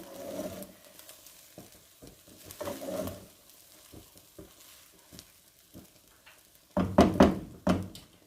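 Shanghai Schezwan chicken rice being mixed gently in a pan, with scattered scraping and soft stirring knocks plus a light sizzle, building to a louder burst of clattering stirs near the end.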